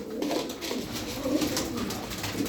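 A flock of around thirty pigeons coos continuously nearby, low throaty rolling calls overlapping in a steady chorus with no voices.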